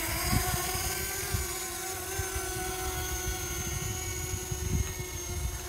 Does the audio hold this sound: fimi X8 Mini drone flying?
yes